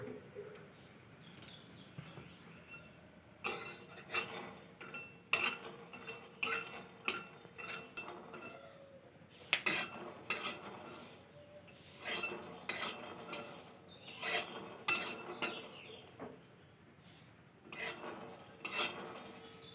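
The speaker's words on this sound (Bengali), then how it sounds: "তো প্রথমে ভাজবো আমি বাদামগুলো।" Peanuts are dry-roasted without oil in a wok while a utensil stirs them, making repeated metallic scrapes and clinks that grow more continuous, with birds chirping faintly in the background.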